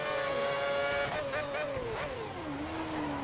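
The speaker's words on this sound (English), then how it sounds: "Oh, we've spun it again." A Formula One car in the F1 2010 racing game at Australia spins out: a steady engine drone wavers and falls in pitch while tire scrub and skid noise swell, loud and close, with no talk.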